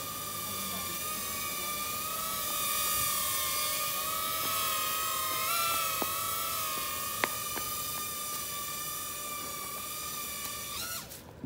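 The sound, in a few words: small UFO drone flying on its own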